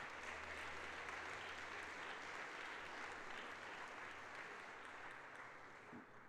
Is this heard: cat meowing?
no